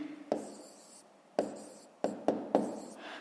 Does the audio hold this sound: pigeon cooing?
no